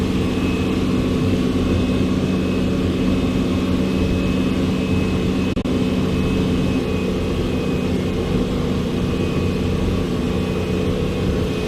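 A powerful Jet Capsule motorboat engine roars steadily at speed on the sea, a loud continuous drone mixed with rushing water and wind noise.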